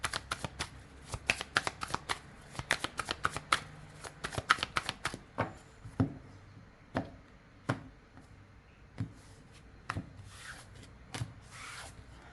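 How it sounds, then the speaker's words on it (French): Tarot cards are shuffled and laid on a table, first as a quick burst of riffling and slaps, then as slower single soft snaps of cards set down one by one. "je pose les 9 cartes"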